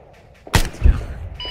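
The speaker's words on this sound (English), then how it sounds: "that was me shooting, and that was you hearing the aftermath of my shot" A gunshot in Arma 3 cracks sharply once, followed by a deeper thudding report a moment later, then the quiet hum of the game returns.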